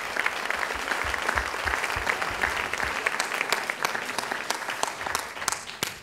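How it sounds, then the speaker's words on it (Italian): Audience applause at a talk, steady close clapping from a crowd filling the whole stretch with crisp individual claps standing out, no voices over it. "direi di fare un applauso"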